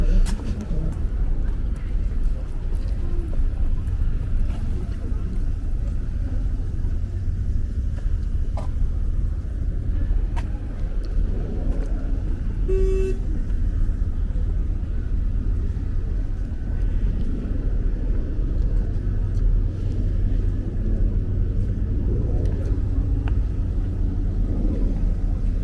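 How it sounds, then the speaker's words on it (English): Slow, backed-up night traffic crawls along 3rd Avenue in Bay Ridge, Brooklyn; a constant low rumble of idling and creeping cars carries on throughout, with a brief horn-like tone midway and some talk in the background. "I'm going in and out of traffic because it's not even moving."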